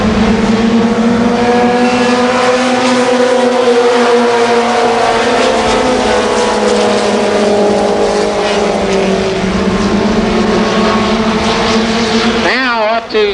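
Mini stock race cars roar around a speedway at Columbus Motor Speedway in 1990, their engines droning loud and steady with shifting pitch as they pass, while an announcer calls the race over the noise.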